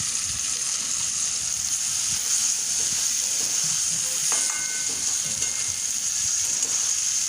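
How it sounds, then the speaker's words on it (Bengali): Chicken pieces sizzle in oil on top of a spice masala in a pan, giving a steady close hiss with faint stirring clicks and no talking. "সুন্দর করে কষানো হয়ে গেছে, মশলাটার উপরে আমি এবার মাংসটা দিয়ে দিচ্ছি।"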